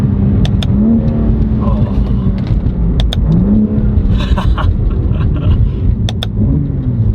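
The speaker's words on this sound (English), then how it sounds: "the exhaust opens it just that little bit more" A BMW G87 M2 with a full titanium equal-length exhaust revs loudly and repeatedly, pitch climbing and dropping through gear changes, with sharp exhaust pops and crackles; a voice speaks briefly underneath.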